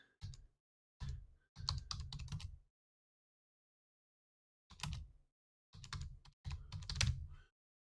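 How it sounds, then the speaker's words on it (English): Typing on a computer keyboard: bursts of quick, close key clicks, several short runs separated by pauses, quiet and with no talking. "I got this keyboard here."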